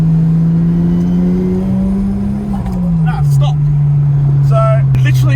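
Exhaust on a Toyota JZX110 Mark II that is warming up, giving a loud steady whistling, trumpet-like drone that holds one pitch and dips slightly partway through, with brief voice sounds in the background.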